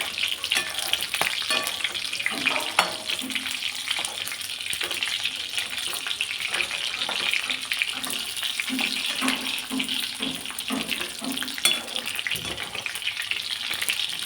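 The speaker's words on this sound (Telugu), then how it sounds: "తక్కువ నూనెలో కొన్ని కొన్ని కాయలు చొప్పున చక్కగా ఇలా వేయించి పక్కన పెట్టుకుంటే" Brinjals frying a few at a time in a small amount of oil for a Telangana masala curry, giving a steady close hiss and sizzle with faint stirring and light knocks, no talking.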